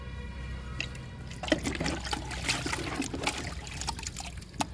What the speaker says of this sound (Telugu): ఇప్పుడు లిక్విడ్ ఇస్తున్నాను రెండు మొగ్గులు ఇస్తున్నా